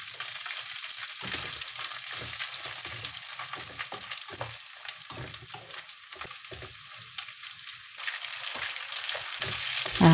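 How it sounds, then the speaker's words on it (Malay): Anchovies (ikan bilis) fry in hot oil for sambal tumis, giving a steady, close crackling sizzle with sharp pops that continues for the whole stretch, with no voices. "Panaskan minyak, goreng ikan bilis tu ya."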